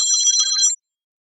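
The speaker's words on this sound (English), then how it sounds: "So that phone you're hearing ring" An indoor telephone gives one short, bright electronic ring that stops abruptly, leaving silence, loud and near with no one speaking.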